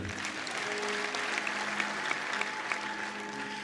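A congregation at a church service applauds, producing a sustained, even roar of many hands clapping, with a faint tonal hum underneath.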